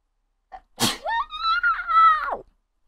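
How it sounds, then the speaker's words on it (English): A single human sneeze: a short intake, a sharp burst, then a drawn-out, high, whining vocal tail that fades after about two seconds, close and alone. "I'm about to sneeze."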